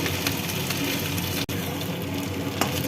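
Egg and potato koftas frying in hot oil, a dense, steady sizzle heard close and fairly loud with a momentary dropout, and no voices over it.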